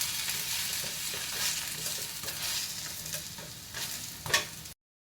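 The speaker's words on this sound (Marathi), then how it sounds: "पूर्ण बाजूने भाजलेलं आहे थोडं तेल सोडून आणखी भाजून घ्यायचं" Radish leaf thalipeeth, a flatbread patted out on a banana leaf, fries in oil on a pan, giving a soft, steady sizzle with faint scraping and stirring noises close by and a sharper crackle near the end.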